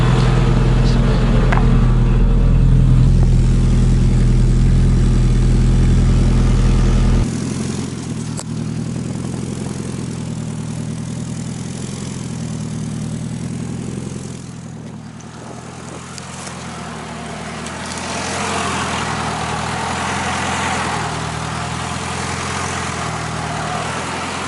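An AWD Honda Accord with a newly built exhaust idles on a freezing day, a deep loud rumble for the first seven seconds that then drops to a quieter, steady idle with some wind noise.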